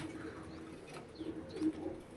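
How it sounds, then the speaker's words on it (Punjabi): Soft, low pigeon coos repeat a few times against quiet background noise, fairly close but gentle. "ਵੱਡੇ ਕਬੂਤਰ"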